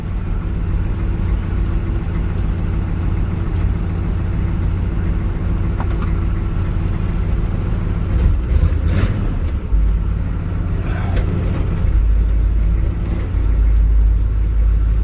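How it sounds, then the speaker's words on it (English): Pickup truck engine running while driving, a loud steady low rumble heard from the cab, with a few brief rattles and bumps partway through and no talk. "Plus, I like driving my truck, so."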